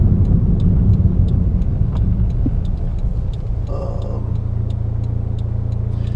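A 1993 Toyota MR2 Revision 3 cruising on a highway gives a steady low engine and road rumble close by, the drone settling into an even tone partway through, with faint ticking over it.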